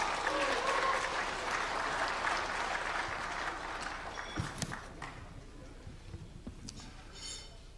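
Audience applause at a security civic groups' rally in a hotel ballroom, loud sustained clapping that gradually thins out and fades into scattered claps and room noise.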